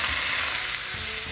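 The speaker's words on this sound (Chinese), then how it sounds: "再往里面加入辣椒粉，再加一点芝麻，里面浇上热油" Hot oil poured over chili powder and sesame seeds in a bowl of chopped chicken for hand-torn spicy sesame-pepper chicken, a loud, dense, continuous close sizzle heard alone.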